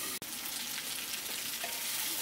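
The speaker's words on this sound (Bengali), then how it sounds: "এখন এটাকে একটু নেড়ে নিয়ে ঢেকে দেব, আর এটাকে ভেজে নেব ভালো করে।" Spring onions fry in oil with turmeric in a covered pan, giving a dense, even, close sizzle that carries on unbroken apart from one brief click near the start.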